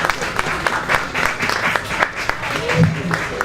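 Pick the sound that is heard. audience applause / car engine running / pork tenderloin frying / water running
audience applause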